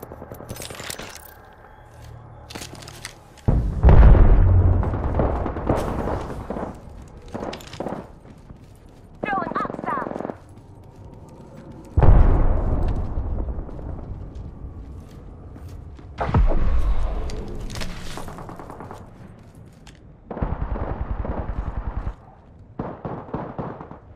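Sharp bursts of gunfire and heavy impacts in the battle-royale shooter Apex Legends arrive in loud clusters separated by quieter gaps, with a player talking between them.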